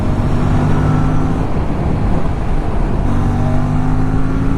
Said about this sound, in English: There is too much traffic today.